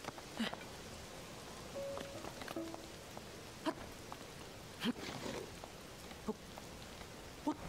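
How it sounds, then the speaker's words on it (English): Rain falls in The Legend of Zelda: Tears of the Kingdom, a soft, constant hiss of rainfall with scattered louder drop-like taps, faint and steady throughout. "It's still raining."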